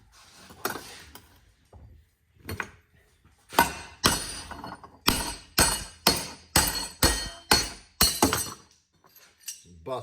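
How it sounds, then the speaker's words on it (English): A hammer strikes metal over and over, busting welds off a metal mount held in a vise, with sharp ringing clanks that come quicker and louder toward the end, close up and with no talk. "Bust off some of those welds."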